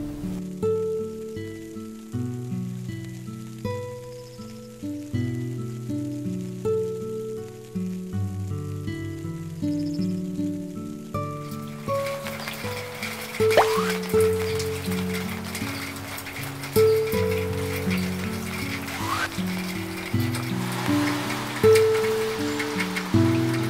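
July rain falls in a Los Angeles garden, a dense hissing patter that comes in about halfway through and keeps going beneath gentle background music.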